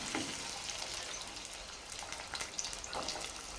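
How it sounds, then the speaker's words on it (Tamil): Onion and garlic sautéing in a pan with curry leaves nearby, giving a soft continuous sizzle with faint crackles and light stirring, fairly quiet and without voices. "இப்போது வெங்காயத்தை நல்லா வதக்கி விட்டுக்கலாம்."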